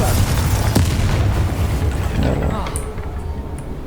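A Confringo spell explodes in the video game Hogwarts Legacy, a loud booming blast with a rumbling low tail that fades over a few seconds, followed by a couple of bright magical chimes.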